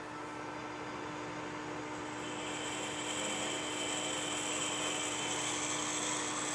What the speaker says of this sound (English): Next up, we're going to drill the pilot hole for the square 3/8 inch broach that will be going through here